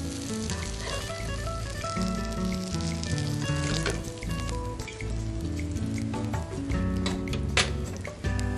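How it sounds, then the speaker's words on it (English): Red snapper frying in a pan with oil, a steady close sizzle and crackle with scattered pops, continuing without talk. "our red snapper is cooking for 3 minutes on each side"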